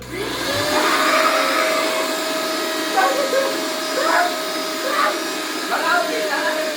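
A motor whines at a steady high pitch as a mixer grinder grinds something into flour, running continuously, with faint voices or yips breaking through at intervals.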